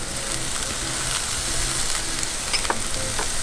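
Red chilies and yellow onions fry in sunflower oil in a stainless steel pan over medium-high heat, giving a steady, even sizzle close by with no talking.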